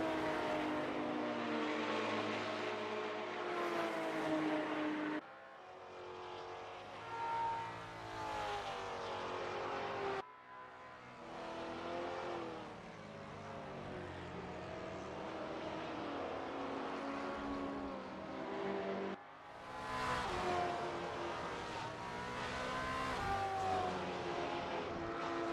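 GT4 race cars, among them a Porsche, lap Sportsland SUGO with engines droning and revving through gear changes, the sound cutting between several stretches of steady, moderately loud roar.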